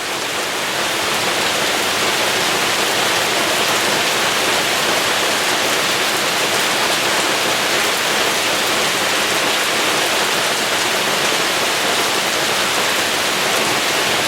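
Heavy rain pours down steadily during a storm, a dense, loud, unbroken hiss that goes on without pause and with no talking.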